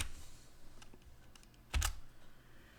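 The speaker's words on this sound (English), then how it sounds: "I'll just type that in, sudo apt install tracker." Keys clacking on a computer keyboard as a terminal command is typed in Ubuntu 18.04, a short quiet run of taps ending in one firmer keystroke, likely the Enter key.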